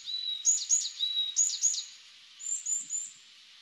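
Bird calls recorded during a bird survey: a string of thin, high, whistled notes repeated in short bursts, clear and fairly close, with a brief pause before a final pair of calls and no talking.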